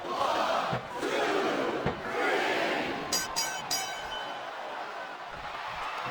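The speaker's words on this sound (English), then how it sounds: "Look at him feeding off energy from this capacity crowd." Arena crowd roaring and cheering during a Triple H vs Batista ironman match in the wrestling video game SmackDown vs. Raw 2007, a loud, steady wash of voices filling the hall with a few brief metallic clanks near the end.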